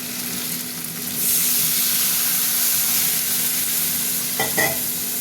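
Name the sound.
potatoes and eggplant frying in spices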